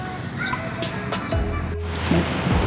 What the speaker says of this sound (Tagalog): Oh, see, kahit aso naglalaro sa tabing dagat.